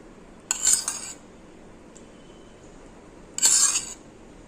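A spoon scrapes and clinks against a steel bowl in two short bursts while paratha dough ingredients (flour, salt, turmeric, coriander-cumin powder and oil) are mixed, with quiet gaps between and no voices.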